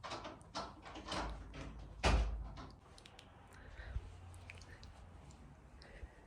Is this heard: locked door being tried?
yes